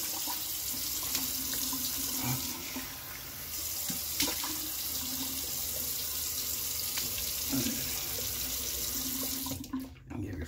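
Bathroom sink tap running at full cold, a steady close hiss and splash of water that continues for several seconds before being shut off at the end.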